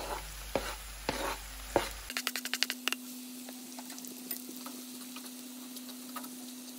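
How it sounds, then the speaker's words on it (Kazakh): Onions and carrots frying in oil in a heated pan give a faint, soft sizzle, with a burst of quick stirring or scraping clicks partway through. "Осылай қыздырылған табамызға жуамыз бен осындай морковымызды қуырып аламыз."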